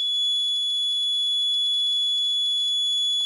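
A Raspberry Pi Pico fire alarm system's buzzer sounds a continuous, loud, piercing high-pitched tone that holds steady throughout without pauses.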